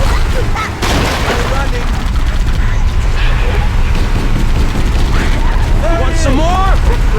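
Gunfire in a Halo video game battle, a steady clatter of rapid shots mixed with mechanical clanks and heavy thumps, with voices shouting over the fighting.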